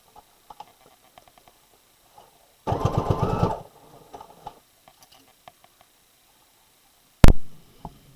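A home sewing machine stitching a garment in one brief close burst of rapid mechanical whirring, set among scattered light clicks and handling taps, then a sharp loud knock near the end.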